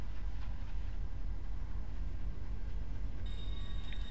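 Trains running in the railway game Rails Unlimited Classic give a steady, continuous low rumble throughout, with a faint higher tone entering near the end.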